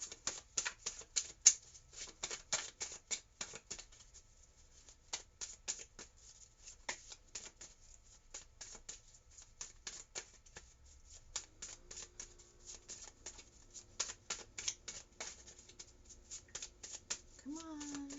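Tarot cards are shuffled by hand in quick, soft riffling bursts, faint and close-up, continuing rhythmically throughout with brief pauses.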